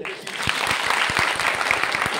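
An audience at an educational guidance camp lecture in Mukutban breaks into a short burst of brisk, uneven clapping.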